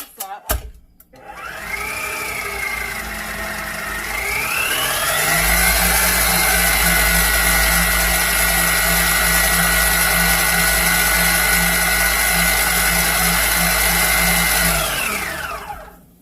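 Electric mixer whirring through pumpkin pie filling with spices, starting up with a rising pitch, settling into a loud steady motorized hum for about ten seconds, then spinning down at the end.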